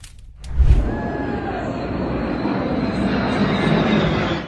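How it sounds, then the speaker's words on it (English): Military jet aircraft fly overhead with a loud, sustained broadband roar that swells suddenly after a brief quiet start and stays strong and steady throughout, with a faint whining tone drifting through it. "there are 3 aircraft in this clip, and I believe the middle one is an alien aircraft being escorted by military jets"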